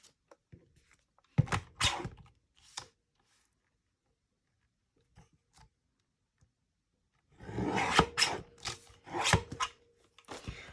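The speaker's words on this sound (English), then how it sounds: "Let me just trim that down." Paper being trimmed for a collage envelope journal: a few short rasping cuts near the start, then a denser run of cutting and rustling strokes toward the end, close and moderately loud, with no talking.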